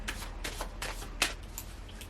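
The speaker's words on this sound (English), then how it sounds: "I'm going to shuffle 3 times." Tarot cards being shuffled by hand in a quiet room, a few soft riffling bursts in quick succession with one sharper snap near the middle, close and fairly faint.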